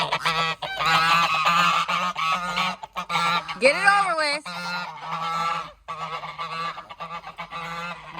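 Several geese honk loudly and repeatedly nearby, their calls overlapping in a noisy chorus, while a person briefly speaks.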